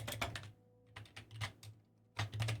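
Quick bursts of computer keyboard typing as a Minecraft command is entered, clusters of close, crisp key clicks separated by short pauses.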